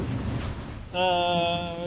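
Aboard a racing sailboat in the Indian Ocean, wind and waves wash past in a rough, hissing rush, then a sustained tonal whine joins over the water noise for the second half.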